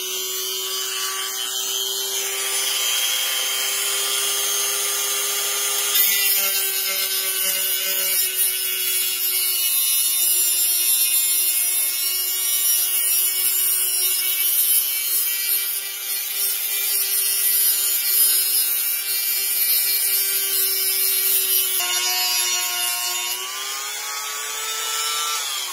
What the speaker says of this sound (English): So I'm just using a regular Dremel,